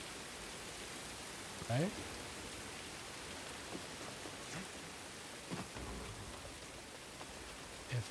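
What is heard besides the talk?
rain falling in the video game Jedi: Fallen Order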